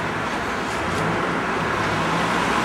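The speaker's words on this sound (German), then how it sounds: "Also ich hatte jetzt ungefähr den dreifachen Abstand vom vorbeifließenden Verkehr." Steady road traffic flows past at the East Side Gallery, a continuous broad wash of tyre and engine noise from cars and buses, fairly close and loud, with no talk.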